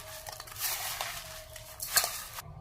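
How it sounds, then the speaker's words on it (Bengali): Ripe bananas being mashed and mixed by hand with salt and sugar in a bowl, a soft, steady squelching and stirring with a few light clinks against the dish, close and fairly quiet. "লবণ দিলাম, চিনি দিলাম। এখন মাখিয়ে নেবো ভালো করে।"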